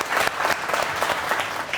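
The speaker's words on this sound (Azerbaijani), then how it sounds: "Alqışlayaq Elmətdin" A studio audience at an Azerbaijani comedy talk show breaks into loud, sustained applause, a dense wash of many hands clapping together with no voices over it.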